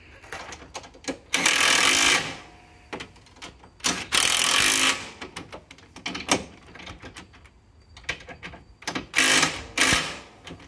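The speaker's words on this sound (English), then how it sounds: "I'm using my medium size impact here to not go too crazy with the torque" An impact driver tightens bolts during a Talon 8-inch portal installation, with several loud bursts of rapid hammering rattle separated by quieter stretches of clicking and handling noise.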